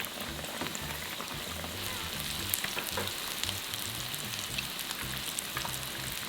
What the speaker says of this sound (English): Carefully put in the salmon fillet one at a time. Fry until crispy for about 3 minutes.